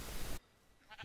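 Sheep bleating in the Minecraft video game: a single short synthetic bleat near the end, following a burst of loud noise and a brief lull, with no talk.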